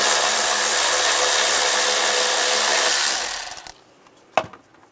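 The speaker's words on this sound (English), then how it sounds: "Loosen up this screw." A powered ratchet with an 8mm socket loosens a cover screw on a 2000-2006 Chevrolet Tahoe, whirring loudly and steadily for about three seconds before winding down, followed by a single sharp click.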